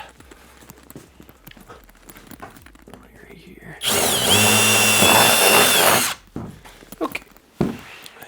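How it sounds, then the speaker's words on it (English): A power drill bores a hole to mount a 35-inch off-road tire on a vehicle, running as one loud, steady whine for about two seconds mid-clip, with quieter handling noises before and after. "need to drill a hole right over here"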